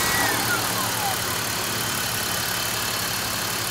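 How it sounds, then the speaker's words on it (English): A secondary air pump running on the engine of a 22-year-old BMW E46 gives a steady loud whirring drone that holds evenly throughout, with a faint fading whine near the start. "So that was a noise from the secondary air pump."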